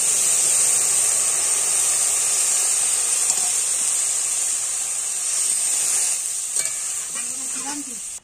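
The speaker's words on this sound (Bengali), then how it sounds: "কষানো হয়ে গেছে, এবার জল দিয়ে দিলাম" Water goes into a pan of sautéed spices with eggplant, bitter gourd and potato, raising a loud, steady sizzling hiss that slowly eases toward the end.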